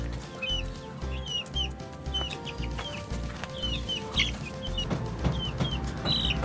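Several American fowl chickens cluck and call in a backyard coop, with repeated short chirps and clucks over a steady low background hum and occasional wing rustling.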